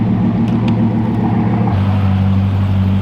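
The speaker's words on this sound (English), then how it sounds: "Oh, how I have missed the cold start of the W16 quad turbocharged Bugatti." A Bugatti's W16 quad-turbocharged engine fires up from cold: a loud, close, steady low rumble at high idle that settles into a slightly lower drone partway through.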